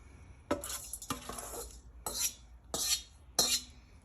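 Green and red jalapeno peppers added slowly into a pot of apple cider vinegar and pepper seasoning, making several separate clattering splashes and knocks against the pot.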